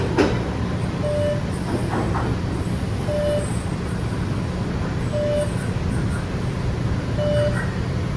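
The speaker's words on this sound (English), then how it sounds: "That train's already departing for us." An MBTA subway train in Boston departs with a steady, loud rumble of wheels and motors, broken by repeated short electronic tones, with no voices over it.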